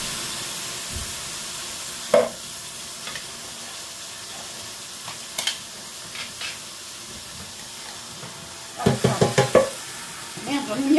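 Peeled tomatoes tipped into a pan of sautéed onions over lowered heat, giving a steady sizzle with scattered clinks and a burst of stirring scrapes near the end.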